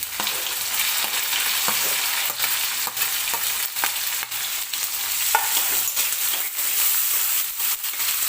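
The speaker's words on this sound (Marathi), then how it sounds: "कांदा आपल्याला हलकासा मऊ होईपर्यंत फक्त तेलामध्ये भाजून घ्यायचा आहे" Chopped onion fries in oil with minced garlic for dal khichdi, a loud continuous sizzle punctuated by repeated sharp spatula scrapes and clicks against the pan.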